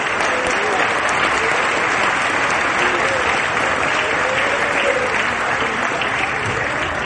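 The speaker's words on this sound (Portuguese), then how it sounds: "somebody needs to give the Lord a hand clap of praise" A church congregation breaks into loud, dense applause in praise during a sermon, a thick, unbroken roar of many hands clapping close by.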